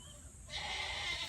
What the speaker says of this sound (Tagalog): Maingay ang aming kambing.